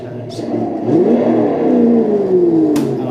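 The sound unit in a 1/8-scale Rico Porsche 928 radio-controlled car conversion plays a simulated engine, a loud close electronic engine note that rises and falls in pitch as it revs, with faint clicks around it.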